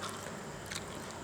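Close crunchy biting and chewing of spicy Mama instant noodle salad, a short burst of moist crunches with no talking.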